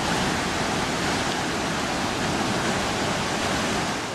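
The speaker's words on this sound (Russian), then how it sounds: "Водопад Виктория находится на границе Замбии и Зимбабве на реке Замбези." Victoria Falls on the Zambezi River, on the border of Zambia and Zimbabwe, roars as a dense, steady wall of rushing water, loud and unbroken, with no voices.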